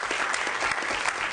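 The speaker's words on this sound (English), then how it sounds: "Big round of applause," Dense, steady applause from an audience at a healthcare information briefing fills the short moment, loud and continuous with no speech over it.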